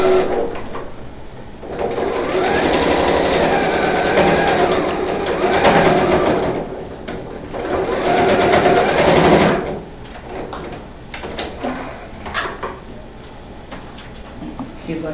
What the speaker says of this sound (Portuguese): Alfineto, máquina de costura, e nós vamos rebater.